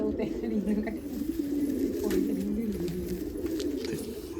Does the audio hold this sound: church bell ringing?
no